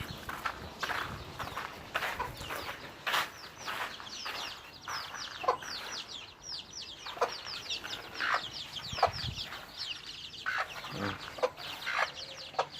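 Six young chicks in a chicken coop cluck and peep in quick, high chirps that keep going the whole time, close by, with a few soft scuffs and knocks underneath.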